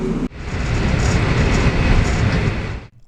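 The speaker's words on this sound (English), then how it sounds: "The train now arrives at Woodend Station." V/Line N set train pulling into Woodend Station in Victoria, a steady, loud broadband rumble of the carriage running continuously for nearly three seconds before cutting off abruptly.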